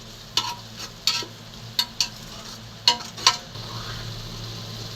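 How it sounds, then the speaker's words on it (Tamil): A soft, steady sizzle of ginger, garlic and shallots frying in a pan, punctuated by several crisp scrapes and taps of a spoon stirring against the metal. "இஞ்சி பூண்டும் சின்ன வெங்காயம் போட்டு இப்போ வதக்கிட்டு இருக்கோம்ப்பா."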